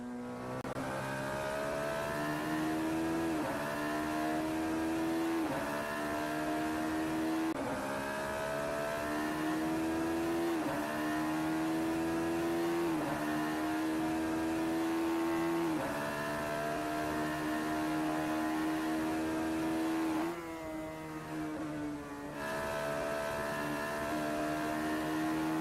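Race car engine lapping a track in a sim racing game, a loud continuous drone that climbs through repeated gear shifts and briefly eases off before pulling again.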